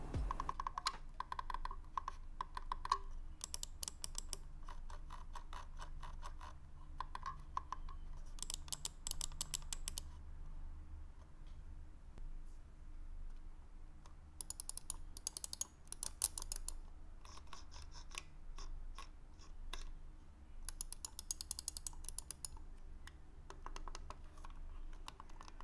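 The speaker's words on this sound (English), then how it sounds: "It has the same clicky feel, which is quite hard to describe, so hope this click sound test will help you." Computer mouse buttons, a Logitech M585 and a Rapoo, click in quick faint bursts and irregular runs with pauses between, recorded close in a quiet room without speech.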